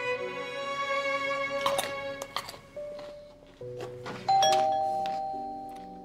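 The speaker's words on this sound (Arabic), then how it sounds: "اجيت اجيت، حرقت الجرس" An electronic doorbell chimes again and again, several bright ding-dong tones with ringing decay coming in quick succession, as if someone is pressing it impatiently at a door, with no voices over it.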